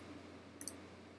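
A computer mouse gives a couple of quick, faint clicks close together midway through an otherwise quiet moment.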